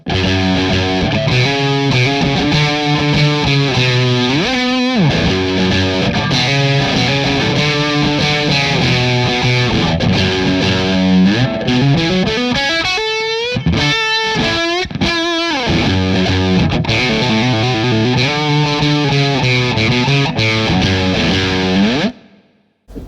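An electric guitar runs through a clean amp with pedals, playing loud, gritty riffs and sliding phrases continuously for over twenty seconds before cutting off abruptly.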